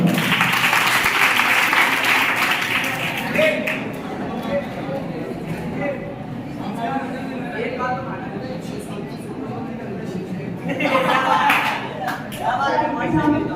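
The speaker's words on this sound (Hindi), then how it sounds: "तालियां बजा रहा हूं" A crowd applauds loudly at a poetry gathering at a Sanskrit college in Jaipur, Rajasthan, swells, then thins into scattered clapping and murmuring, before a second burst of clapping rises near the end.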